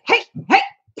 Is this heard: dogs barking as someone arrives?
yes